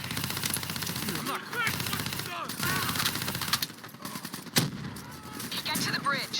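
Rapid automatic gunfire crackles almost nonstop during a Call of Duty Black Ops 3 firefight, with bursts layered over explosions and shouted voices; the volley is loud and close throughout.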